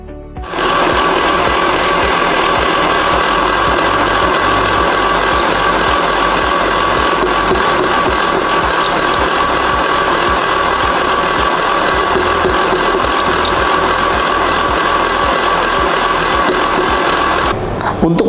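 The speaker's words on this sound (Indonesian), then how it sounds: "Kemudian kita mix sampai mengental." An electric mixer whips whipping powder, vanilla custard and cold milk in a steady, loud, continuous whir that runs nearly unbroken for about seventeen seconds, with a faint rattle beneath the motor hum.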